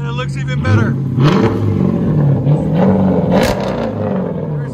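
Close and loud, the 5.7L HEMI in a 2014 Dodge Charger R/T barks through quick throttle blips over its dual Dynomax Race Bullets exhaust, settling between revs into a rough, burbling idle.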